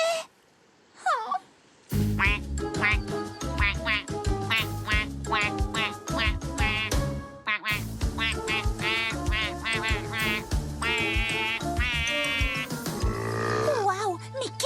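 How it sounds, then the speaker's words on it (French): Loud, rapid duck-like quacks repeat over a busy musical backing in a Care Bears cartoon, with voices mixed in, after a brief quiet squeak at the start. "ça ressemble à un canard, chante comme un canard, marche comme un canard, donc ce doit être un canard"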